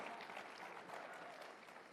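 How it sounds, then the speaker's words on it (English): Faint, steady applause from a live-stream audience, a continuous patter of many hands that holds evenly for about two seconds at low level. "Feel free to clap."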